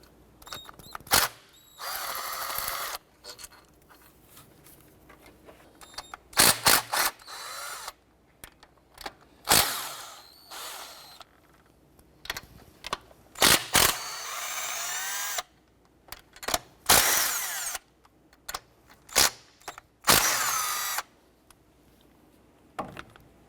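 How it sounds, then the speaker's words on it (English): A socket wrench fitted with a swivel and extension works a bolt loose on the upper intake plenum of a 1993-1997 Ford Ranger, giving bursts of ratcheting clicks in uneven spurts with pauses between, close and fairly loud, no talk. "We're going to use a socket, swivel, and extension to get to the back one here."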